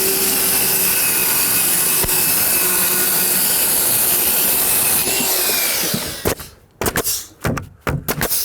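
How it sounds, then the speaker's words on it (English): A circular saw cuts through framing lumber, set on a 2x4 laid on the ground: a loud, steady whining cut runs for about six seconds, then the blade winds down and breaks off into short bursts and clatter. "Make sure to set the depth of your blade relative to the material you're cutting."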